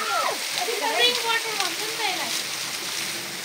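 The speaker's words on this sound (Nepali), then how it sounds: "फेरि माथिबाट पानी आउँदैछ वाउ साँच्चैकै चिसो पानी" Cold water splashes down from above in a steady, close wash that continues the whole time, while people talk and exclaim over it.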